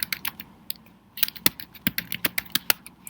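Close, crisp keystrokes on a computer keyboard, starting as scattered clicks and then turning into a quicker, steady run of taps with no talking.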